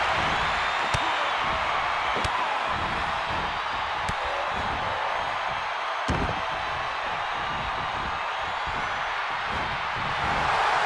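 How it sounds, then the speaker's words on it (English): A huge wrestling arena crowd roars continuously for the whole stretch, loud and dense, with a few sharp impact thumps cutting through the din. "The sound of this crowd is deafening, and he's asking for more."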